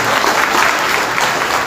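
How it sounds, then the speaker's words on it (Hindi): An audience at a poetry recital bursts into loud, dense applause, a steady close wash of clapping with no break. "जोरदार ताली बजाई"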